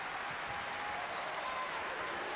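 Home crowd at a Dayton college basketball game against Creighton roaring and cheering as fans rise to their feet, a steady loud wash of applause and voices filling the arena for the whole stretch.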